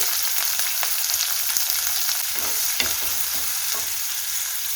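Onions, chillies and curry leaves frying in a pan, a steady close sizzle with stirring clatter and occasional scraping of the spoon, no talk over it.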